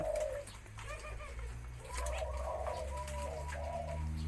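Spotted doves kept in cages coo in soft, repeated rounded phrases, several birds calling near and overlapping against a low background rumble, with no talk.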